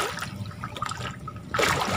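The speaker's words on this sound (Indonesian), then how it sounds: "Hanya bunyi air aja." Water splashes and trickles in a fish pond stocked with red tilapia. The sound is a steady wet churn that ends in a louder burst of splashing.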